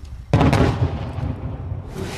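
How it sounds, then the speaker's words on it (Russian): Distant artillery fire over an empty wartime city street in Debaltseve: a single heavy boom bursts in suddenly, then rolls and rumbles away slowly, fairly loud and with no voices. "Вдали слышится артиллерийская стрельба."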